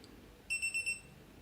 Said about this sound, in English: its alarm is going to ring.